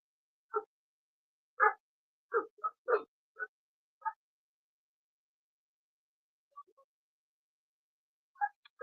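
Neighbor dogs calling back and forth with short sharp barks, several quick ones clustered early, then a pause and a couple of fainter barks farther off.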